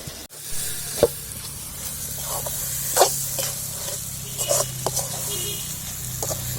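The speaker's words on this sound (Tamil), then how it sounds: "இந்த காயை கிண்டிட்டு இதிலே இப்படி வறுத்து எடுத்துக்கலாம்." Ivy gourd (kovakkai) frying in a pan, a steady soft sizzle broken by scraping stirs and light clinks at intervals, close and without talk.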